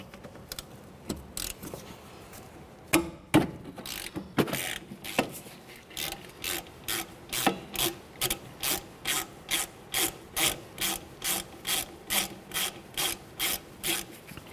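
Hand ratchet working loose 12mm hub mounting bolts on the rear hub assembly of a 2004-2006 Scion xB, a few scattered clicks giving way to a long, steady, close-up run of rapid ratcheting strokes, with no talking.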